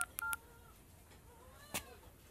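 Several short telephone keypad dialing beeps sound in quick succession, followed by a brief pause and another tone, faint and close over a quiet background hiss.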